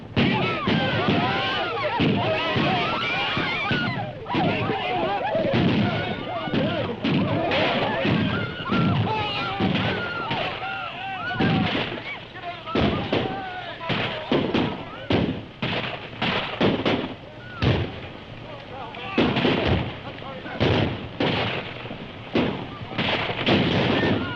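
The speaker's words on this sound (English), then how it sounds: "you're firing too high." Rapid volleys of gunfire crack through a 1932 film serial attack scene, with dense, irregular shots and booming reports under shouting voices, loud and continuous across the scene.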